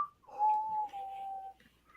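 A person whistles one steady, sustained note for over a second, clear and close, after a brief higher chirp, with no talking over it.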